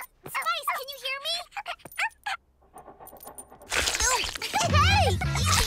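A cartoon puppy from the Polly Pocket animated series yelps and whimpers in high, bending cries, with a brief quiet gap before a busier, louder stretch where voices talk over it.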